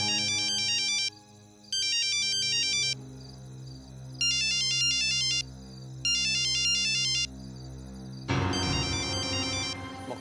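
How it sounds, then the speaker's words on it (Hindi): A phone ringtone plays a repeating electronic melodic pattern in loud bursts separated by short gaps, over a low sustained musical drone, with a denser louder swell of sound near the end. "मुख्यमंत्री का फोन है।"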